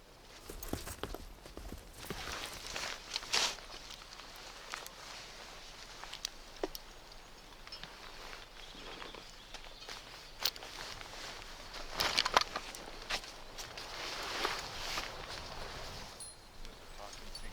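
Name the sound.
horses walking, hooves clip-clopping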